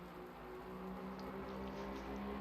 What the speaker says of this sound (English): So it's heavy rain now, or sort of medium rain.